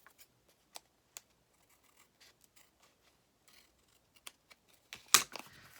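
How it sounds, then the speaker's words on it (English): Scissors trimming material, with a few faint, sparse snips spread across the clip and a louder, closer cut near the end; no talking. "I can trim that off"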